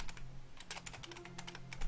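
Rapid keystrokes on a computer keyboard during online multiplayer gaming, a quick, close, fairly quiet run of clicks heard alone.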